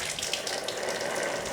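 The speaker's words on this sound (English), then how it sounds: "Drop them into a bucket of water" Packrat midden material dropped into a bucket of water, giving a steady wash of splashing and pouring water that runs continuously from start to finish, fairly close with no pauses.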